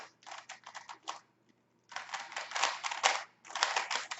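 Rapid typing on a computer keyboard comes in dense clattering bursts: a quick run of keystrokes, a short silent gap, then two longer stretches of fast, close, loud tapping.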